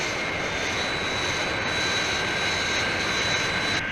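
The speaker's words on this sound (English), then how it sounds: "That's certainly some aircraft." The Fireflash aircraft flies overhead with a loud, unbroken jet roar that holds steady throughout, with a faint high whine on top and no voices.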